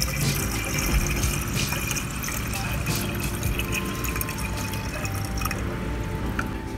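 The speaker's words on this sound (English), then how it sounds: "then add in the BMW coolant next" BMW coolant poured into the engine of a 335i after an N54 engine swap, a steady close trickle and gurgle of liquid with faint background noise.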